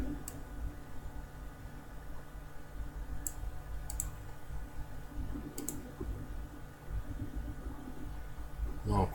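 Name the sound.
computer mouse clicking a link in an email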